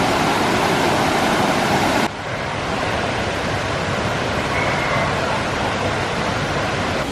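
Algar waterfall in Alicante, Spain roars as a steady, loud, broadband rush of falling water, close and continuous, its tone shifting and thinning slightly partway through.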